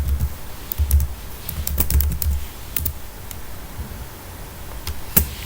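A password is typed on a computer keyboard during an online payment step, a run of quick, close key clicks in uneven bursts with short pauses, no voices.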